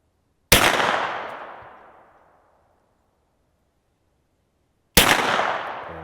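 Hi-Point 10mm 1095TS carbine fired at the range: two loud, sharp gunshots about four seconds apart, each with a long ringing decay, close by and with no talk.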